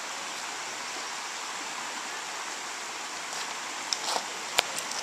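A mountain creek in Golden Ears park flows with steady, broadband rushing water, constant and moderately loud, with a few faint clicks and knocks near the end and no talk.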